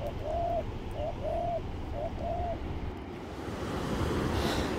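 A displaying pair of Australian garden birds, the male chasing the female, gives four short soft cooing calls in the first half, close and clear over steady outdoor background noise, then falls quiet.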